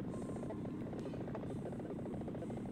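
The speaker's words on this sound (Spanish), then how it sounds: "Pues que viene un helicóptero por mí." A helicopter arrives in the Contra 3 video game, a steady loud rotor drone with a buzzing mechanical hum filling the whole stretch, game sound effects layered over it.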